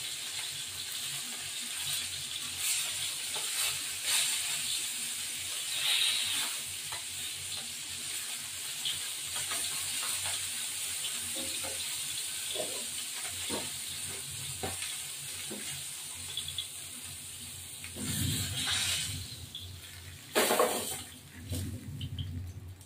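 Hilsa fish sizzling and frying in hot oil in a pan, a steady crackling hiss running throughout with occasional louder spits and stirring clatters, loudest near the end.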